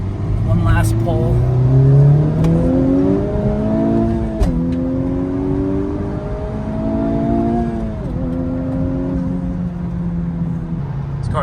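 A Honda Civic Type R Limited Edition pulls hard through the gears, engine note rising steadily under load with a brief dip at each upshift, loud and close from inside the cabin, with voices speaking over it.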